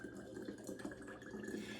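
Sage-infused vinegar poured from a cup into a glass jar, a soft continuous liquid trickle with slight splashing, fairly quiet and close, with no one speaking.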